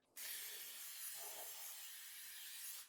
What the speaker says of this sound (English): I'm just going to give it a bit of a spray with some cooking oil